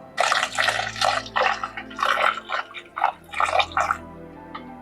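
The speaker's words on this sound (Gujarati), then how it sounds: "હવે આને ચાર પાંચ પાણીથી આપણે બિલકુલ ચોખ્ખી ધોઈ દઈશું" Mixed dal, including toor dal, being washed in water for khichdi, with continuous splashing and dripping water sounds that rise and fall in short bursts, close and fairly loud.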